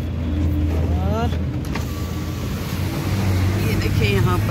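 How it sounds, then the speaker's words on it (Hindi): Road traffic streams past on the NH 44 highway in Jammu and Kashmir, a steady near rumble of car engines and tyres with occasional vehicles passing, and faint voices in the background. "ये देखिए ट्रैफिक ऐसा रखा है, आना जाना लगा हुआ है।"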